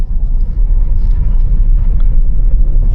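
Kia EV6 GT pulling away with one wheel on snow, a steady low electric-drive rumble with road and tyre noise holding close and loud throughout.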